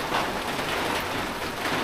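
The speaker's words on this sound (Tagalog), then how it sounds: "Nag-ulan talaga siya" Steady rain falls at night in an overgrown grassy area, a continuous even hiss that stays at the same level throughout, fairly loud and close, with no talking.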